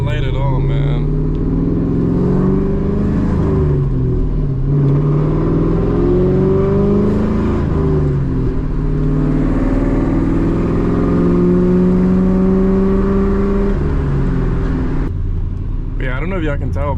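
Straight-piped 2003 Ford Mustang GT V8 while driving, a loud, deep exhaust rumble that rises and falls through repeated accelerations and gear shifts, continuous throughout.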